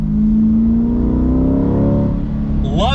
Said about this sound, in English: Love that naturally aspirated V8 sound